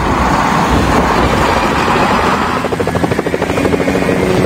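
Rescue helicopter in the kids' game Baby Panda Learning Academy, a loud continuous rotor drone with a whirring engine roar, steady throughout with a rhythmic chopping pulse emerging toward the end.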